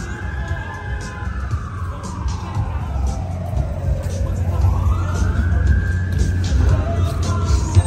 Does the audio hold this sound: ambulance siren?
yes